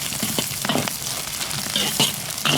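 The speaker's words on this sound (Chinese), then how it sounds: "下入葱姜、干辣椒， 炒香以后下入猪瘦肉" Lean pork, scallion, ginger and dried chilli stir-fry in hot rendered pork fat, giving a close, loud, continuous sizzle broken by brief scraping stirs of the spatula.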